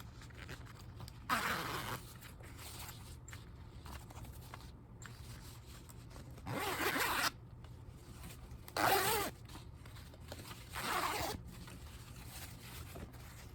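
Zipper on a fabric patio chair cushion with cording, pulled in four short separate bursts over a quiet room background.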